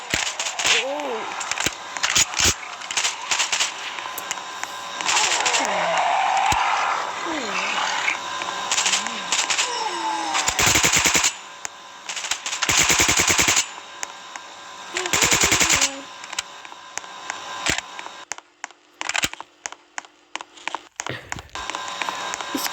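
Rapid turret gunfire from the mobile game Zombie Uprising, loud bursts of automatic shots repeating in clusters with game effects and some talk between them.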